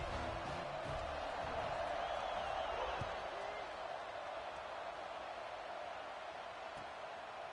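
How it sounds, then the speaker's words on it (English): A stadium crowd in the College Football 26 video game cheers as a steady, distant roar, with a commentator talking over it throughout. "this crowd is feeling themselves after that last drive"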